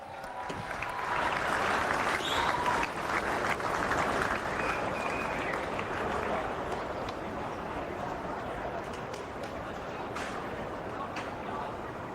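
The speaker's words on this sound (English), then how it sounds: "A round of applause for Jock McMahon." At a GFNL senior football grand final between St Josephs and St Marys, the crowd applauds the season's number-one ticket holder before the coin toss. The clapping is broad and sustained across an outdoor ground, with a faint voice beneath it.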